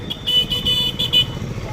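Vehicle horns toot in a few short bursts over the low rumble of passing traffic and rickshaws, fairly close and loud.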